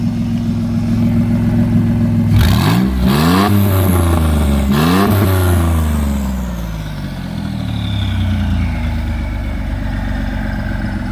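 Twin-turbo VR4 V6 Mustang engine idling with a deep rumble, then revved hard two or three times with rising and falling sweeps, settling back to a loud, steady idle close by.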